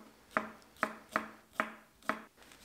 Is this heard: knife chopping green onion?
yes